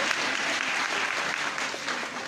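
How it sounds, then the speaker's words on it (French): A theatre audience at a live comedy show applauds continuously, a dense, steady wash of many hands clapping at close range with no talk over it. "Applaudissez pour le bœuf, s'il vous plaît."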